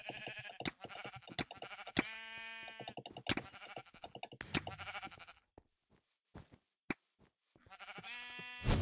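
Sheep bleat repeatedly in Minecraft, several wavering, harmonic-rich calls coming in clusters, loud and close, with short gaps between them and no talking.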